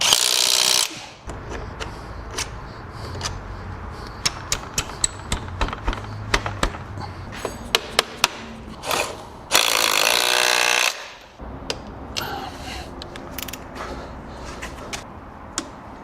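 Bolts are tightened with power tools during assembly of a KOVI Lite 300 R motorcycle: two long, loud whirring bursts near the start and middle, with scattered sharp metallic clicks and clanks between them, close by and with no talk.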